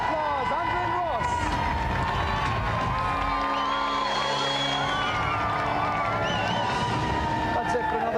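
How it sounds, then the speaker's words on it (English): A crowd claps and cheers loudly and continuously, with music playing and a voice speaking over the noise. "let's have another round of applause"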